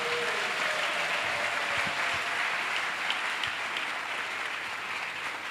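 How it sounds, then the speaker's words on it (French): A church congregation clapping for Jesus during a French-language service, steady dense applause throughout, fairly close and even, with no clear speech over it. "Let us clap for Jesus."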